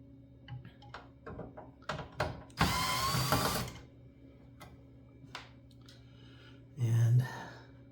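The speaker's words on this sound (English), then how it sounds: "You can just reach in there and just unscrew these screws." Screws are removed from the steel chassis of a Phanteks Enthoo Pro TG full-tower PC with a dual Xeon build. Scattered clicks and taps lead into one brief, buzzing burst, followed by a few more metallic ticks and a short rattle near the end.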